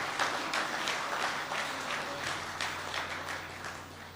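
Applause from an audience for the Scorpions team's players, a steady moderate clapping that carries through at an even level from start to finish, with a low hum running underneath.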